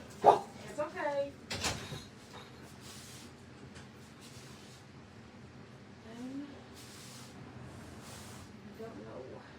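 Dogs outside bark and yip in a short burst at the start, then the sound fades to quieter whimpers and faint noises while a person talks nearby.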